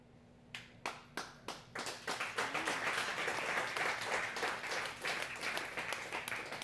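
Audience at a sermon starts with a few separate claps that build into steady applause, then ease off slightly while continuing.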